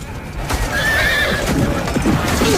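Horses neigh and whinny over thudding hooves in a loud, dense battle scene, with a continuous roar of commotion under the repeated whinnies.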